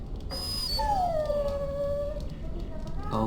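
A dog in the Dragon Age Origins video game gives a drawn-out, sliding whimpering howl that rises then falls, fairly close and clear, with a short yip near the end.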